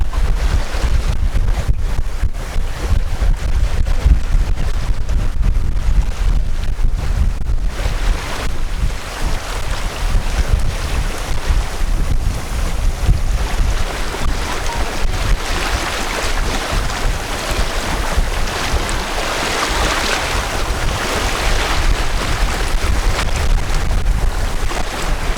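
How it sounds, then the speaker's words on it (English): Strong wind at sea aboard a sailing boat, a loud, continuous roar with wind buffeting the microphone, waves washing against the hull and gusts that swell and ease over time, with no one talking. "So the wind turned to the south and increased"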